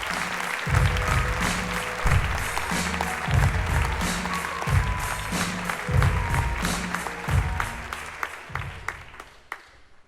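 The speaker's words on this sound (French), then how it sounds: "On l'applaudit." A television studio audience applauds a comedy contestant on the French channel C8, sustained loud clapping with a pulsing low beat of music underneath, thinning toward scattered claps at the end.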